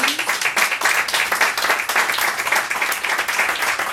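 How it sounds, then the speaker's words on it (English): A room full of people clapping steadily and loudly for a few seconds at the Angry Cow Poetry night in the Rialto Living Room, a dense, even patter with almost no talking. "can we just give a round of applause for everybody that has touched this stage, please?"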